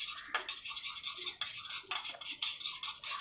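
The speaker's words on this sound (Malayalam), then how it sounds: "ഇനി നന്നായിട്ടൊന്ന് മിക്സ് ചെയ്തെടുക്കാം കേട്ടോ" A vitamin E skin-care paste stirred briskly in a small bowl, a steady close scraping and swishing with brief repeated strokes and no talk.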